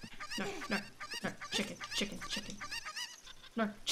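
Chicken clucking in the video game Ocarina of Time, a rapid string of repeated squawking clucks filling the whole span, fairly loud and close, with some voice-like overlap.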